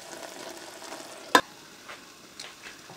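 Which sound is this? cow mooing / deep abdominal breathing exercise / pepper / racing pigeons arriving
pepper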